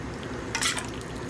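Water trickles into a pot of Polish chicken and dumplings, a short close splash lasting about a quarter second, with quiet kitchen background before and after.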